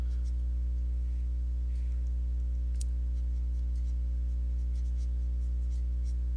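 Hand drawing of a figure, soft faint scratches of a pencil on paper in sparse short strokes, alone over a steady low electrical hum.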